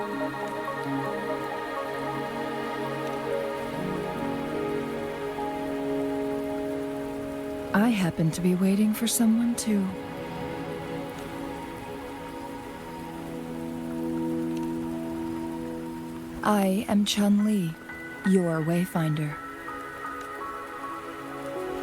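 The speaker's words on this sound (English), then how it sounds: "Are you trapped here by the rain?" Steady rain falls across a scene in the video game Wuthering Waves, a constant wash of drops under game music, with people talking over it in two short bursts.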